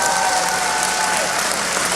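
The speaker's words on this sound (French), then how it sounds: "On applaudit Epic Joystick" A crowd in an audience breaks into steady, full applause, a dense wash of clapping that holds at a constant level throughout.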